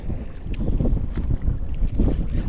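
Wind buffets the microphone in low rumbling gusts while fishing from a shore, loud and close, with water lapping faintly beneath.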